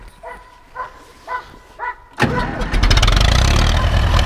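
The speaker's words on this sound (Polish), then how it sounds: "Odpalamy ciągnik, słuchajcie, jedziemy." An Ursus farm tractor's engine cranks in a few short bursts, then catches and roars to life, settling into a loud, steady diesel rumble up close.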